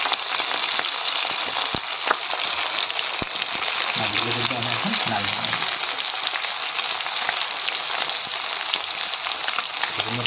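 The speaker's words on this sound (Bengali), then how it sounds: "তাহলে মাছগুলো আমি ভেজে নিই" Ban (eel) fish frying in oil, a dense, steady sizzle with scattered pops that runs throughout, close by, while a person speaks briefly over it.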